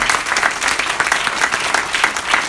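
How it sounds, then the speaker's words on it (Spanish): A church congregation gives the Lord a loud applause during a sermon, many hands clapping vigorously in a dense, pulsing burst that stays strong throughout. "¿Cuánto le dan un fuerte aplauso al Señor en este momento?"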